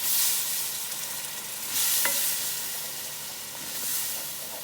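Cajun roux for gumbo being whisked in a pot, a steady scraping stir over a soft, continuous sizzle that swells and eases, close by with no voices.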